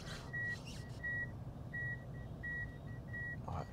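A 2020 Toyota Avalon's parking sensor warning sounds a quiet, evenly spaced series of about five sharp electronic beeps, steady in rhythm over faint background hum.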